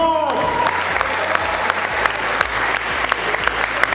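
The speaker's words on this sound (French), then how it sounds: "Et je vous invite à applaudir très très fort pour les partisans du camp." An audience at a televised debate event in 2022 claps loudly and steadily, a dense crowd applause filling the room throughout, with a voice briefly heard at the very start.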